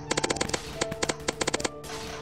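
Pistol gunfire in the Roblox game Zombie Attack, rapid bursts of sharp electronic shots in quick clusters, close and crisp, with short pauses between volleys.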